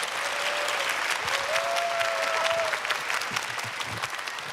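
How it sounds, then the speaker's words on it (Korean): A book-concert audience gives a lecture hall's worth of steady, full applause welcoming a professor to the stage, continuous and fairly loud for several seconds with a faint voice or whistle rising above it. "큰 박수로 모시겠습니다."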